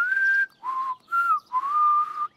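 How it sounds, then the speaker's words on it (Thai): Someone whistles with pursed lips in a short melodic phrase of four sustained notes with gliding pitch, clear and close, with no other sounds around it. "ก็ยากสิจ๊ะจะผิวปากได้ก็ต้องฝึกเยอะ"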